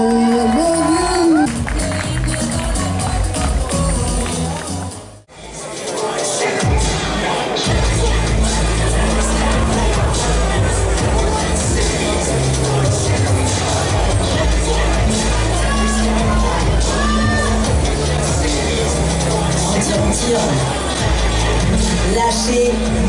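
Audience at the 2016 Grand Prix des Pyrénées bodybuilding contest applauds and cheers a men's physique competitor, a loud, dense wash of clapping and shouting that runs steadily after a brief dip.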